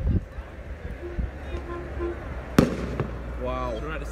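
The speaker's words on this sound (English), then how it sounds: "Look at all these fireworks and stuff." Football fans at a stadium for the 2018 Europa League final in Lyon set off fireworks and flares, with a sharp bang and crackling pops over a roaring crowd, while a person talks nearby.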